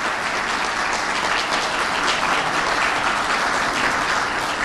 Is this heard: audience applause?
yes